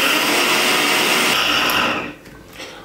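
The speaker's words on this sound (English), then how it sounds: "I'm going to blend the mango. So let's chuck the mango into the blender jar." A kitchen blender whirs loudly and steadily as it blends mango into puree, a dense continuous roar that winds down toward the end.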